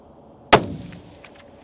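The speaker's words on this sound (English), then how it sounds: "This is going to be the first shot ever out of our long-range precision shooting system on a budget." A single sharp, loud Remington long-range precision rifle shot cracks out close by, followed by a short fading echo rolling across open ground.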